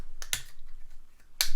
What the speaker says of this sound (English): Then we take out the fists, click